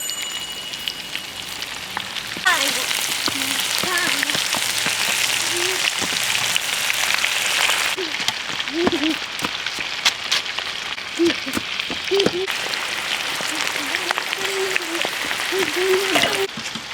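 Shrimp in crispy batter sizzle and crackle in hot oil in a dense, steady frying hiss, with a voice talking intermittently over it.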